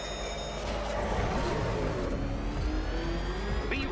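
Batmobile engine in Batman: Arkham Knight, a continuous heavy mechanical roar with rising revving tones, steady and loud throughout with no talk.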